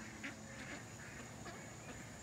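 Wild ducks quack close by in short scattered calls over a steady hiss of outdoor background noise, fairly faint with no talking.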